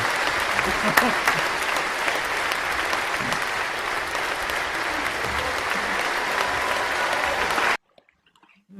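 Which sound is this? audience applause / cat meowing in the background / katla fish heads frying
audience applause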